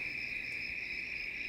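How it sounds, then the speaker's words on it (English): Crickets chirp in a steady, continuous high trill, fairly quiet and unbroken, with no voices and only a soft low background hum. "Oh, crickets are here."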